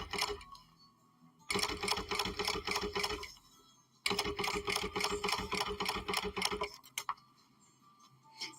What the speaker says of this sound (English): I am going to go through and just top stitch that down